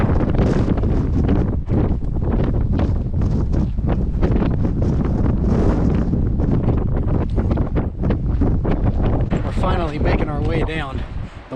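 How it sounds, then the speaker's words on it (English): Strong desert wind on a trail, loud gusty buffeting and roar against the microphone throughout, with a voice talking faintly beneath it. "wind is insane."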